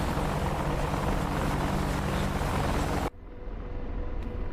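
A video game helicopter, its airframe riddled with a few holes, roars in a loud steady rotor drone that cuts off abruptly partway, leaving a quieter rumble that builds back up.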